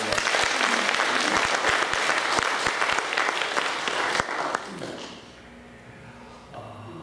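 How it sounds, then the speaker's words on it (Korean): A church congregation at an anniversary service bursts into loud sustained applause that fills the room, then fades out over the last couple of seconds. "종합적으로 하나님께 영광의 박수를 올려"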